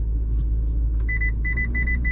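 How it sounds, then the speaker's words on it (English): Inside a 2025 Mitsubishi Eclipse Cross SEL, a couple of short, bright electronic climate-control beeps sound over a low, constant cabin rumble. "it gives you a beep if you try to go lower because you can't go lower in temp"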